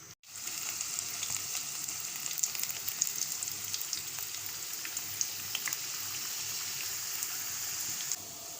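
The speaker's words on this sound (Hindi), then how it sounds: "तेल गरम हो चुका है। हम इसके अंदर वॉन्टॉन डालेंगे फ्राई करने के लिए।" Wontons deep-frying in hot oil, a continuous dense crackling sizzle with scattered pops and bubbles, close and steady throughout after a brief quiet start.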